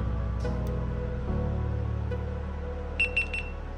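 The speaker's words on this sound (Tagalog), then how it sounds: "Okay, so nag-beep na. So naka-on na yung camera natin." A low electronic hum runs throughout, then a few short high-pitched beeps sound close by near the end as a GoPro Hero 13 Black camera powers on.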